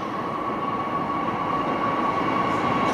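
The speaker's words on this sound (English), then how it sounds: "Train approaching. Stand back from the platform edge." A train approaches a station platform with a steady, loud rumble and a constant high tonal whine that hold through the whole span, with no talk.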